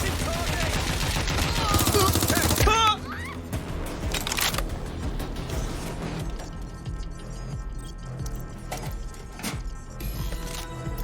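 Sustained gunfire from a suppressing attack in Watch Dogs: Legion, a loud dense burst for the first few seconds, then scattered sharper shots and impacts continuing under game sounds and voices.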